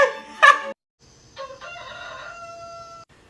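A rooster crows close by, a sharp call followed by a longer drawn-out cock-a-doodle-doo, alone without talk.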